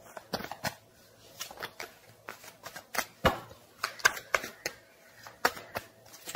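Tarot cards being shuffled: soft, irregular riffling and tapping bursts close by, fairly quiet, with short pauses between them.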